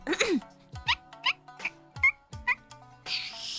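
A voice imitates a squeaky faucet with a run of short, high squeaks in an uneven rhythm, close and fairly quiet, and a brief hiss of noise at the end.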